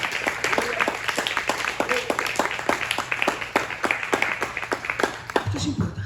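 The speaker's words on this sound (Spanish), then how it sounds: "denle ofrenda de palmas al Rey de la Gloria como Él se lo merece" Church congregation applauding in a steady patter of many hands, fairly close and sustained, while a preacher speaks over it.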